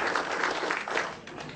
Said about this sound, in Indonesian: Nantinya Ibu, beri tepuk tangan dong buat Ibu Sumi.